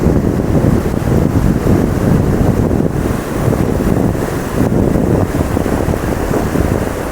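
Tide waves rolling onto the seashore where fishermen cast their nets, a loud, steady roar of surf and wind filling the whole stretch without a break and with no voices.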